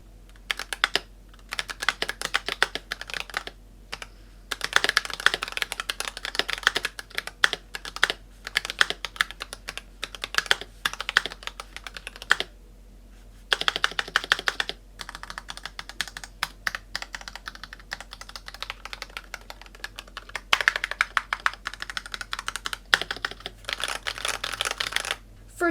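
Typing on a Razer Huntsman Analog V2 keyboard, bursts of quick clacking keystrokes close up, pausing briefly between runs, with no talking.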